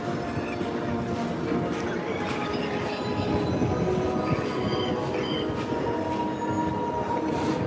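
A Disney monorail rolls through the Contemporary Resort, a continuous rumble of wheels on track with faint squeals and rattles, steady and fairly close for several seconds.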